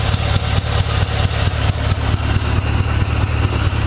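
A Gilson riding mower engine labors steadily in granny low gear, crawling along with a close, loud, low rhythmic chug that pulses evenly throughout.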